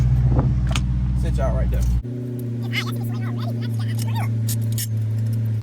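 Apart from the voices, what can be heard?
Dodge 392 engine idling while warming up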